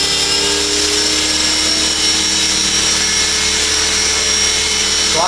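Blueray 450 RC helicopter rotor spinning during spool-down on landing, a loud steady whine with harmonic tones filling the whole stretch, no talking.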